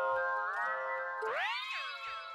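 Layered, pitch-shifting synth tones glide upward in stacked harmonics from a delay effect set to repitch, with warbling repeats sweeping and overlapping as the echoes are resampled at shifting pitches.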